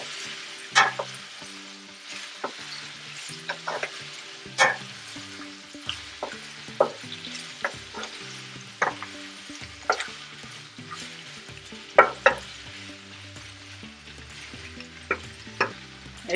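Beef tripe frying in a pan while it is turned and stirred, giving a steady close sizzle broken by regular sharp scraping knocks of the utensil against the pan.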